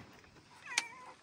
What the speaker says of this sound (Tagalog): Pusa mo ah. Ano talaga boses mo?